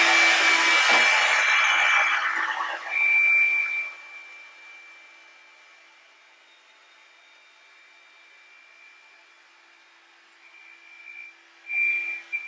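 A Revlon One Step hair dryer runs on its low heat setting with a steady airy whoosh and a thin whine. It starts loud and close, eases to a quieter hum, then swells again briefly near the end.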